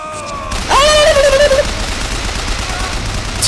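Gunfire in the video game BioShock: a short burst of loud shots near the start, followed by a drawn-out electronic whine and then a steady noisy background without further clear shots.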